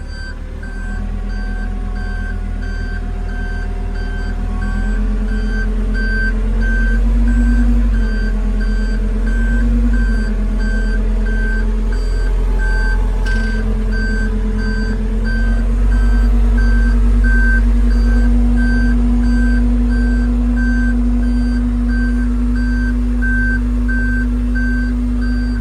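Steady reversing beeps from a hydraulic-drive vehicle repeat at an even pace over a loud, continuous engine drone, the pattern holding close and constant throughout.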